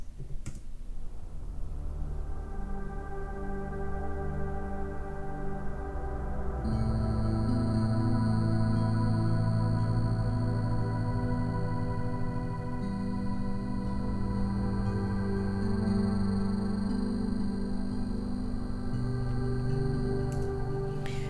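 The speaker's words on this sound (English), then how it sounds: "So next up, I found another pad sounds." A lush, sustained synthesizer pad with layered chords that swell and shift, joined by high shimmering tones after a few seconds.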